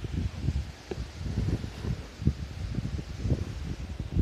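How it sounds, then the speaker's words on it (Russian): Gusty wind buffeting close by, low rumbling bursts that rise and fall irregularly, no voices. "Сейчас ветер дует, не очень-то классно."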